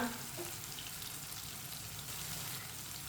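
Spices frying in a pan on low heat for a bottle gourd (lauki) curry, giving a steady, quiet sizzle that runs without a break under faint kitchen clatter and no talking.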